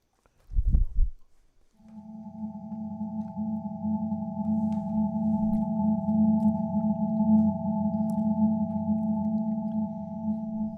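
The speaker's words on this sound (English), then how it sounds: "This is the sound of hydrogen," Hydrogen's atomic emission spectrum rendered as sound: a steady, ethereal sustained chord of layered tones swells in after a brief low thump and holds evenly to the end.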